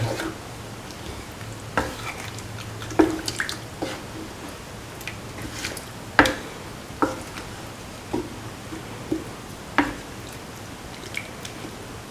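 Occasional wet clinks and scrapes of a spoon stirring chicken stew ingredients in water in a pot, spaced irregularly over a low steady background hum.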